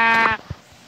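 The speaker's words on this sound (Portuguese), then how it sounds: "Vou matar essa ovelha aqui." A single short, nasal bleat from a sheep in the Minecraft video game, clear and close, followed by a couple of soft thuds and then quiet.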